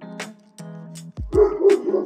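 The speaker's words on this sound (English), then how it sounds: "Dog next door is not happy that I'm over here." A dog next door at a car dealership barks sharply several times in quick bursts, loud and fairly close, mixed with other outdoor sounds.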